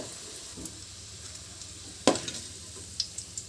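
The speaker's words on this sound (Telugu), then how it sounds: "ఇలా గోల్డెన్ కలర్ వచ్చేంత వరకు వేయించుకోవాలి" Onion and garlic frying in hot oil until golden for egg biryani: a steady close sizzle runs throughout, broken by a sharp spoon clink against the pan and a few lighter taps.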